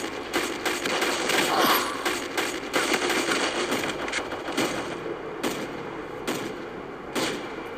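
Gunfire in the New Born mobile shooter game, a dense, sustained stream of rapid shots with a few sharper cracks standing out, loud and close throughout.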